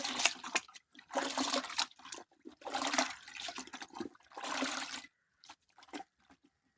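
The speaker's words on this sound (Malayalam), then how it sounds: "ഈ ബക്കറ്റിൽ ഞാൻ വേറെ വെള്ളം എടുത്തേ അതിലോട്ട് ഇട്ട് ഇതുപോലെ ഒന്ന് നന്നായിട്ടൊന്ന് കഴുകാം" Water sloshes and splashes in several close bursts with short pauses between as footwear is rinsed in a bucket.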